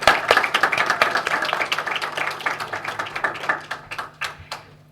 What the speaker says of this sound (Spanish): Un aplauso más, por favor.